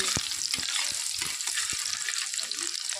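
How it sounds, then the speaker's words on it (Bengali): Chopped onions frying in oil in a wok for a garlic dish, with a steady close sizzle and a few soft knocks from stirring throughout. "পেঁয়াজ কুচিটা দেওয়ার পরে একটু ব্রাউন করে ভেজে নিতে হবে তো ভেজে নিচ্ছি"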